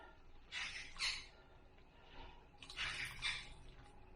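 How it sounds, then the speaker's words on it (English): Quiet splashes of water as wet worm-bed bedding is squeezed, two short bursts of dripping and trickling separated by a pause. "Remember, you want to wring out that water."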